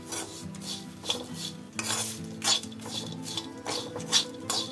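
Kanda papad chutney, a mix of onion and crushed papad, scraped and spooned into a serving dish, with repeated clinks and scrapes of a spoon on the dish in an uneven rhythm, close by with no talking.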